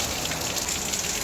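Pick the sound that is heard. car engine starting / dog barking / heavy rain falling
heavy rain falling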